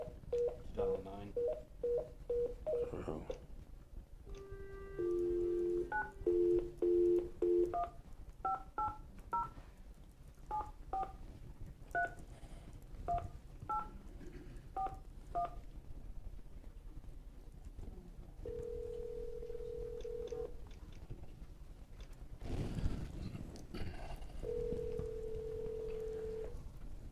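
A telephone keypad is pressed through a run of short, clean dialing tones at an uneven pace, followed by longer steady tones, faint and close in a quiet room.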